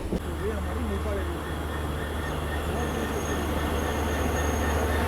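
Agartala Naranghi Express train passing at Moopa railway station, with loud squealing wheels, rumbling cars and a low steady engine drone close by, and a voice talking in the background.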